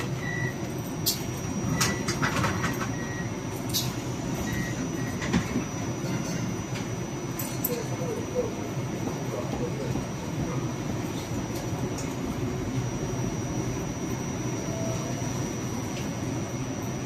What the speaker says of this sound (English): We would also switch tracks one more time coming into the station.